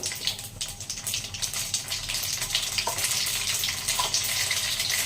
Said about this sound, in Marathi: राई तडतडली चांगली पद्धतीने